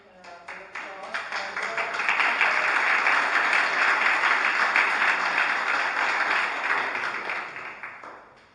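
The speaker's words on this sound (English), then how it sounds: "I think we can have the applause." Audience applause at a conference event in Brussels, a steady wash of many hands clapping that swells over the first two seconds, holds loud and even, then tapers off near the end.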